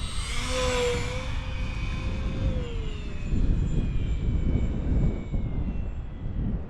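A Durafly Goblin RC model jet roars past at full throttle, a loud whine that falls in pitch as it flies by, then fades into a steady broad rush of engine noise.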